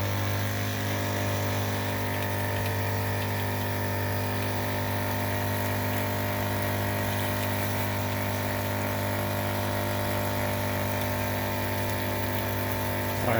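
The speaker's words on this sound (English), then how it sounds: "Alright, so we got the pump switched on." A 12 volt soft wash pump runs continuously with a steady motor hum and drone, close and even in level throughout, used for low-pressure cleaning of vinyl siding.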